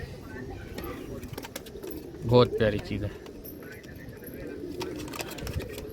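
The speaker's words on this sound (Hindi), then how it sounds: "कबूतर देखिए आप लोग, शौक कीजिए" Pigeons coo at a large pigeon farm in Latur, Maharashtra. The cooing stays faint beneath someone talking, with one brief, clearer burst midway.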